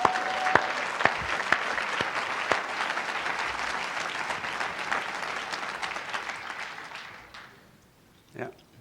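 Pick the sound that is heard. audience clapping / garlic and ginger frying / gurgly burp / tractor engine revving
audience clapping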